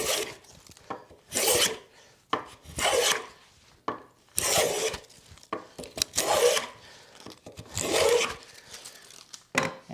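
A hand plane takes shavings off a wooden workpiece, with repeated rasping strokes in an uneven rhythm of about six passes, each a close scraping swish separated by short pauses.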